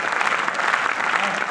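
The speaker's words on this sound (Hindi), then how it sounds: "कविता खत्म हो गई, तालियां बजा दो" Audience applause rings out at a Hindi poetry recital as a poem ends, a dense, steady wash of clapping from a gathered crowd, fairly loud and continuous throughout.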